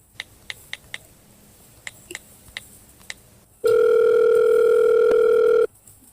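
Several quick taps sound as a telephone number is keyed in, then a steady, loud telephone dial tone hums for about two seconds before cutting off.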